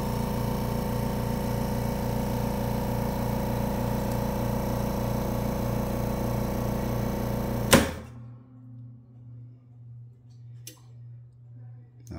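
A chamber vacuum sealer pumps air out of its chamber holding a Mylar bag, a loud steady motor drone that stops abruptly with a clunk, leaving a quieter pulsing hum and a later click.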